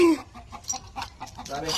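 A chicken clucks in short, rapid bursts nearby, a string of choppy calls over a few seconds.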